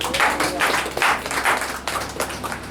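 A church congregation claps during a Christmas service, lively rhythmic bursts of many hands in irregular waves, close and fairly loud.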